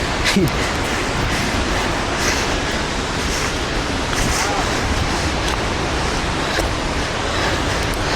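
A constant, loud roar of rushing, crashing water at Gokak Falls, Karnataka, heard from close by and unbroken throughout.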